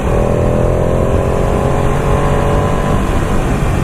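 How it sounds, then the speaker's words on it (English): A Ducati 959 twin-cylinder sports motorcycle engine on a ride, a loud sustained droning roar with a steady tone held throughout, very close and with no voices. "I think it has a Good noise to it, different noise of course to the F3, because the F3 is a triple, which is a twin."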